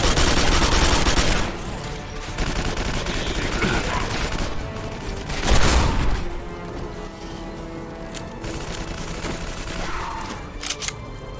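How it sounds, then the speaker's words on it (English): Shotgun blasts in the first-person shooter Quake 4, loud bursts of game gunfire with crashing impacts, a heavy blast near the start and another mid-clip amid continuous game noise. "That shotgun sounds good."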